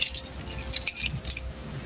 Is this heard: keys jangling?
yes